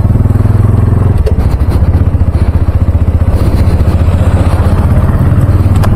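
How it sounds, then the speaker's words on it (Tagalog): Motorcycle engine fitted with an Akrapovic exhaust silencer idling up close, a loud, deep, rapid throbbing pulse that runs steadily throughout with a brief rise in revs near the start. "Kung narinig ninyo, parang stock lang ko itong may silencer ang Acra."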